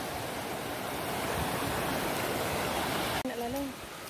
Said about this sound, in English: You got one waterfall right there